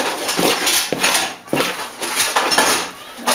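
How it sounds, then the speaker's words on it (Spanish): A spoon scrapes and clinks rhythmically against a bowl while stirring a warm pork and lard dough for ranch-style meat tamales, each stroke giving a close, loud scraping swish repeated about every half second. "Voy a amasar con una cuchara, voy a revolver"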